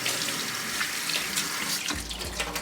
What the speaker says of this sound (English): Then you rinse again with running water.